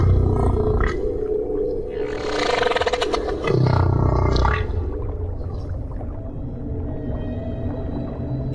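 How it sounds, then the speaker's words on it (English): Humpback whale song in the deep ocean: long, loud, moaning and rising calls with groaning low tones, swelling and fading over a constant watery rumble, with no talk. "It's possible that humpbacks have been singing their extraordinary, complex songs for millions of years."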